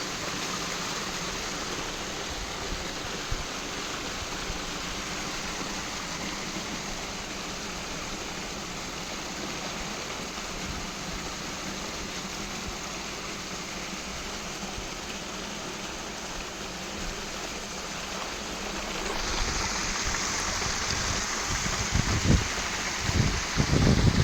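Irrigation water flowing through a vegetable field, a steady broadband rush of running water that continues without a break and grows slightly louder near the end, with no talking.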